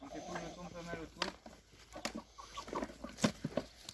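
Hens clucking close by while being fed kitchen scraps such as salad, carrot peelings and crushed eggshells, with irregular short calls rising and falling amid a voice talking.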